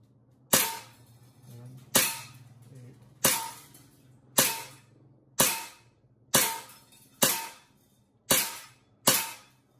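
Beretta M92A1 CO2 full metal BB pistol firing: nine sharp, loud cracks at a steady pace about one per second, each with a brief decaying tail, close up over a quiet background.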